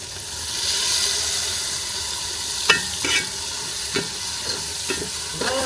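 Chicken curry frying in a pan as chili powder and a little water go in, a steady hiss and sizzle with occasional scraping stirs and sharp spitting bursts, close up, no one talking.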